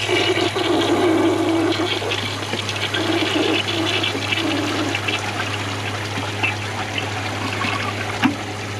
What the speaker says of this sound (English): let's see how it flushes and see if it takes that